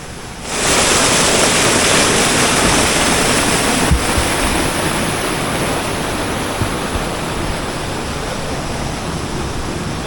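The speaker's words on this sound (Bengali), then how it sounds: "ফলসের কিন্তু আওয়াজ শোনা যাচ্ছে।" Ghagra waterfall gives a loud, steady roar of rushing water that starts abruptly and holds as a dense, continuous wash.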